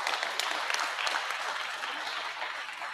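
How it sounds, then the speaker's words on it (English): A jail audience at Henrico Jail East gives Brandon Novak a round of applause. Close, dense clapping holds at a steady moderate level through the whole stretch, with no talking over it. "Hey, y'all want to give him another round of applause?"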